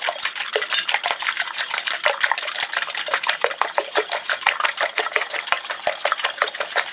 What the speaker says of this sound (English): I'm going to beat the eggs a little bit.